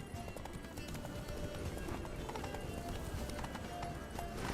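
Roach, Geralt's horse in The Witcher 3 video game, gallops with steady, continuous clip-clop hoofbeats, close and moderately loud across the whole stretch, with faint game voices murmuring underneath.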